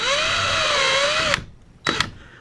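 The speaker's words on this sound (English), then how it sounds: "as you run your screws, keep the face of the screw and the drywall" A power drill spins under load for over a second while driving a screw into drywall, steady high-pitched whine, then stops; a second short burst follows after a pause, close and fairly loud.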